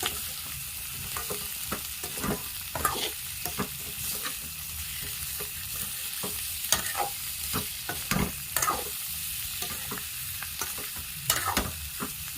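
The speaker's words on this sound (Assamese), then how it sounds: "তাৰপিছত ভালকৈ লৰাই ল'ম" Potato and egg dum curry being stirred in a hot pan, irregular spatula scrapes and knocks spaced over a low continuous sizzle, close and moderately loud.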